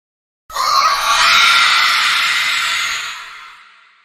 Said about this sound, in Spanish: escuché un chillido que parecía de un murciélago en el cielo